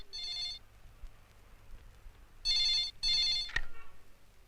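A telephone rings in an indoor scene from a 1993 Hindi film, with three loud, bright electronic ringing bursts separated by short pauses over a quiet background.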